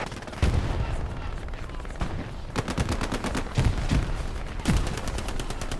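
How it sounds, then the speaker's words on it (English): Gunfire and grenade blasts in a World War II battlefield video game, with dense rapid volleys of shots and several heavy booms rolling through, loud and continuous without pause. "Grenades being tossed"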